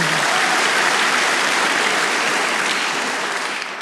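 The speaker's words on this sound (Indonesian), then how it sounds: "Berikan tepuk tangan bagi Tuhan." Dense, loud applause from a church congregation during a worship service, a continuous wash of many hands clapping together that holds steady and only begins to ease at the very end.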